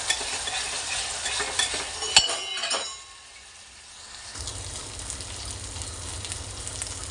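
Eggplant curry paste sautéing in oil, a close sizzle with spoon stirring and scraping against the pan, easing to a quieter simmer briefly before the frying hiss returns.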